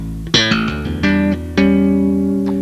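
Bass guitar plays the first section of a tapping exercise, with sharp slapped attacks followed by ringing hammer-on notes and double stops. Three or four punchy hits sound up close over under three seconds, with no talking.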